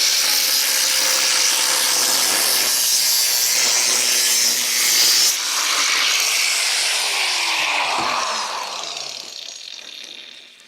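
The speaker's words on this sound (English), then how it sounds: "I'm going to use a metal bar along my line just to scribe the line." Metal scraped along a metal straightedge held with spanners, scribing a line onto an old rusty car chassis, a loud continuous harsh scraping rasp that shifts in pitch and fades toward the end.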